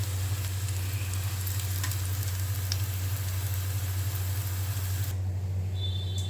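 Thin rice flour roti frying in hot oil, a continuous close sizzle with a steady low hum underneath.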